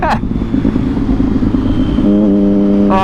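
A 2010 Triumph Daytona 675 motorcycle engine drones steadily, then its quick shifter snaps through a gear change with a sharp step in engine tone, running close and loud, with a brief rev near the end.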